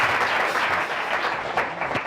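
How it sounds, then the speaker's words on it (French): Church congregation applauding loudly for the Lord during a Christian gathering with an evangelist, dense sustained clapping and crowd noise filling the whole moment at steady volume. "On acclame très fort le Seigneur."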